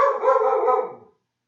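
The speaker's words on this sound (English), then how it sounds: "Excuse the barking dog." A single drawn-out dog bark, loud and close, fading out after about a second, with no talking.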